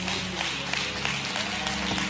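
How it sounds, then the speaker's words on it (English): A church congregation claps in praise during a Holy Spirit service, a steady wash of many hands with a low organ-like hum underneath, moderately loud and continuous across the short stretch. "Can you give the Lord a clap off and a praise today?"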